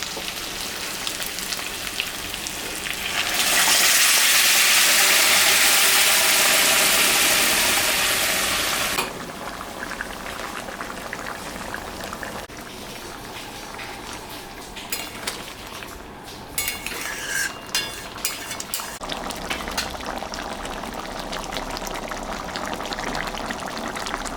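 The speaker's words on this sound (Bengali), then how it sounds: "জলটা আমি দিয়ে দেবো এখন মাংসের মধ্যে" Hot water poured into a pot of browned goat mutton curry, a loud steady rushing pour for several seconds, then softer sizzling and clinking of a utensil against the pot.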